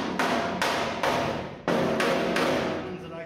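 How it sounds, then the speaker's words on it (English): Spot welds being cut on a 1950 Mercury body, a loud close tool striking in a few heavy repeated impacts, each followed by a ringing metallic decay. "Just cutting some spot welds."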